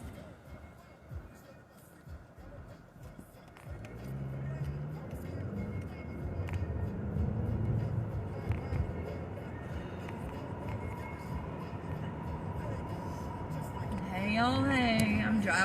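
Car driving along a road, heard from inside the cabin as a low steady rumble that builds after a quiet start, with a person talking over it and a brief warbling tone near the end.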